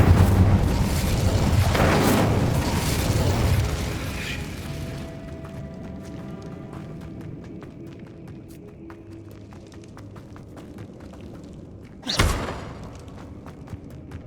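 An Incendio fire spell goes off in the Hogwarts Legacy game, a loud roaring whoosh and rumble that fades into a quieter, ringing tail, followed later by a sharp burst, with no talking.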